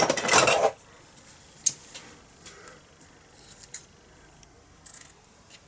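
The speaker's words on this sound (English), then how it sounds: "sharp scissors cut the ends off" Sharp scissors trim the ends off a ribbon bow on a handmade card: one loud close snip opens, followed by a few faint clicks and rustles of paper and ribbon.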